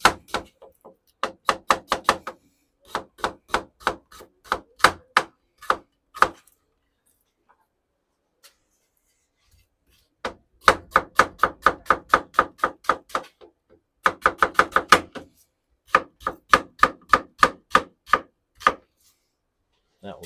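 Red onions being chopped on a board in a pizza truck, bursts of rapid, crisp knife strikes in steady rhythm, close and loud, separated by pauses of silence.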